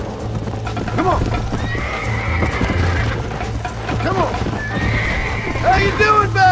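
Horses gallop and neigh in the Red Dead Redemption Wild West game, rapid hoofbeats pounding under whinnies, with someone shouting encouragement over the ride and a low droning engine-like hum underneath.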